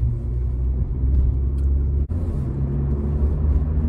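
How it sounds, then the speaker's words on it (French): A Honda Civic 1.8 i-VTEC 140 hp engine hums at a steady low rumble inside the moving car, with a brief dip in the middle and continuous road noise, no talk. "Le moteur en lui-même est très souple à bas régime et toujours volontaire dans les tours"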